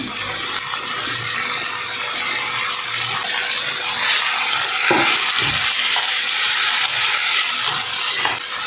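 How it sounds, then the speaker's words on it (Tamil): Potatoes, beans and carrots frying in oil for a mutton keema curry give a steady, close hiss and crackle, with a few soft stirring scrapes partway through and no talk. "எண்ணெயிலேயே இந்த காய்கறிலாம் நல்லா வதங்கட்டும்"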